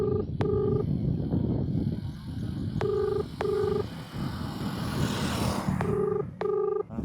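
Ringback tone of an unanswered phone call: short double beeps repeat every few seconds over a steady background hum, with no answer.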